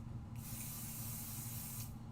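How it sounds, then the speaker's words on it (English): Pixie spray from an aerosol can hisses out in one steady, close burst lasting about a second and a half, with no talking. "So we're just going to spray a little bit of pixie spray on it."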